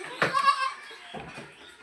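A single goat gives a short, sharp bleat close by, followed by a fainter second call in a quiet yard.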